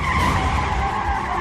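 A car revving hard like a racing car while its wheels spin in place, a sustained loud screeching whine over a rumbling engine, close and unbroken.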